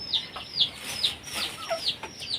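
A chicken clucks in short repeated bursts close by a house built entirely of wood and bamboo, the calls coming roughly every half second, with faint wind in the background.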